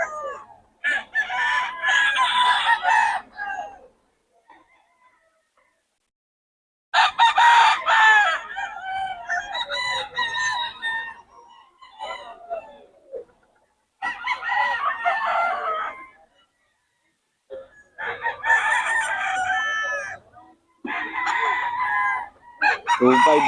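Several loud rooster crows ring out one after another, with short pauses between them, close by and dominating the scene.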